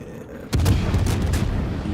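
Naval gunfire pounding an enemy ship in World of Warships, where a Hindenburg, Moskva and Zao division open fire: a sudden loud boom kicks off a sustained roar of overlapping shell blasts and rumbling impacts.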